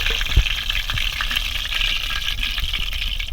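Lote fish chops fry in hot oil in a pan with a dense, continuous bubbling sizzle that stays loud and close throughout, with no voices.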